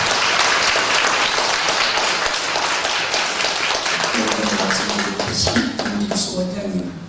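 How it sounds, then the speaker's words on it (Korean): Big audience applause breaks out at a church gathering honoring elderly mothers from a Seongbuk-dong senior center, dense and sustained throughout, with voices and cheering mixed in toward the end. "회원님들 우리 성북동 성북경로당 어머님들 위해서 큰 박수 하겠습니다"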